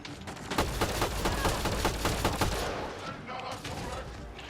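Rapid video-game gunfire in Mass Effect Andromeda, dense overlapping bursts of automatic shots and impacts, loud and continuous, with a player's voice occasionally over the combat.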